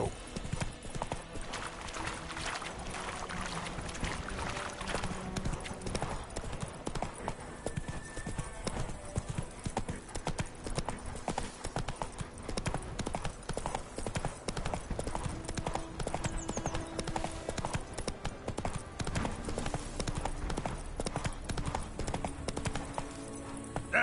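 A horse gallops continuously in The Witcher 3: The Wild Hunt, its rapid, even hoofbeats pounding close up for the whole stretch, with a faint whinny and some game voices now and then.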